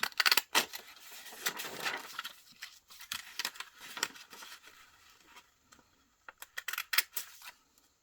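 Scissors snip through patterned paper to cut out a Tim Holtz paper doll piece, giving a run of crisp, close snips and rustles in irregular bursts with short pauses between them.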